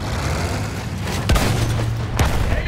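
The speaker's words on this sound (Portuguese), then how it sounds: "As explosões desse jogo é impressionante, cara." Battlefield 1 gameplay combat: booming explosions and gunfire over a steady low engine-like drone, with two sharp loud blasts about a second apart.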